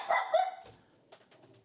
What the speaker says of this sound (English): That's Dexter barking in the background.